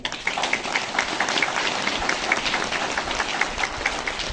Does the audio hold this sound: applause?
yes